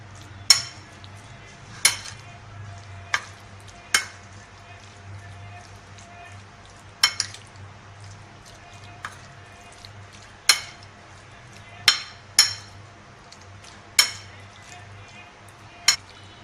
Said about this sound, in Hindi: और लाल मिर्च पाउडर, सोया सॉस और ये विनेगर, इन सबको डालकर हम अच्छे से मिक्स कर लेंगे।